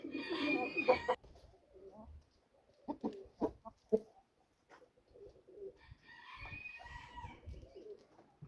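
Purebred roosters at a home yard give a crow at the start and another later, with clucks and soft coos between, close but fairly quiet against a near-silent background.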